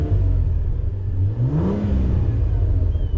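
A 2022 Cadillac CT4-V Blackwing in V mode revs up in one rising sweep and settles back to a steady idle rumble, loud and close, with no talking.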